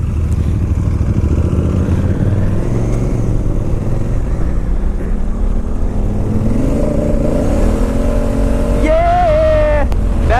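A Honda Africa Twin motorcycle ridden off-road, its engine droning steadily and loud, then rising in pitch as it revs and accelerates toward the end, with wind buffeting throughout.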